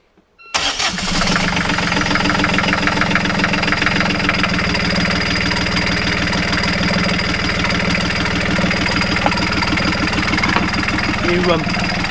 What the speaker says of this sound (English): Right, Cindy, can you start the engine?